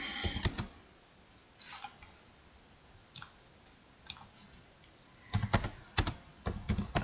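Someone types on a computer keyboard in short clustered bursts of close, crisp key clicks, with quiet pauses between the bursts and no talk.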